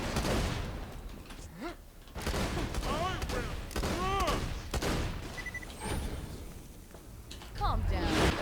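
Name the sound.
rapid gunfire in the video game Borderlands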